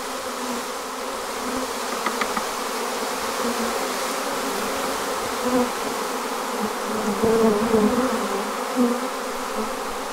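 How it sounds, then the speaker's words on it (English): A dense swarm of honey bees buzzing steadily and close during hiving, a continuous droning hum that swells slightly at times. "Here come the bees."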